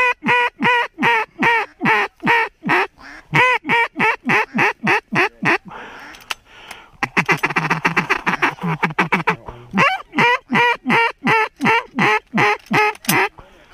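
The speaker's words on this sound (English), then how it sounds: "Look at all those fucking ducks." A flock of ducks on a duck hunt quacks loudly and repeatedly in a steady rapid rhythm, close by, with a brief noisier burst of overlapping calls midway.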